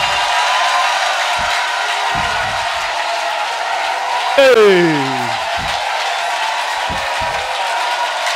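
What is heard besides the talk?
congregation acclamation, cheering and applause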